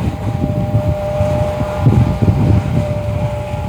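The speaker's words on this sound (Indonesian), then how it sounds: "Aduh, anginnya kenceng." Strong gusty wind buffets the microphone with a loud low rumble, steady and close, near a railway crossing outdoors.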